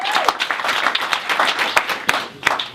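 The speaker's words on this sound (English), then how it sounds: "Another good round of applause for all of you." An audience at an office sales meeting breaks into applause: dense, close clapping from a room of people, with a few sharper individual claps standing out over a short, steady burst.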